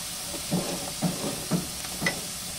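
Onions sautéing in oil in a home kitchen pan for a Filipino vegetable dish, a soft steady sizzle with a few louder stirring bursts at regular intervals.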